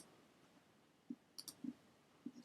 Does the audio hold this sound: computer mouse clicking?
yes